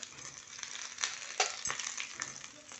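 Ginger sizzles in very hot oil for a tempering of urad dal, cumin and red chilli, a close crackling fry with a few sharp pops and spatula scrapes over a short span.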